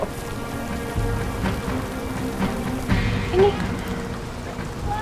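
Steady rain patters all around, a dense hiss with occasional louder drops and a faint low rumble underneath.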